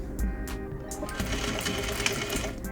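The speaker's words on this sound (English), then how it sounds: "You can either choose to sew this seam with a ladder stitch, or you can do a little top stitch detail, which I'm going to show you" A sewing machine runs top stitching along a trouser seam, giving a rapid mechanical stitching rhythm with short starts and stops, close and clear, with no talking.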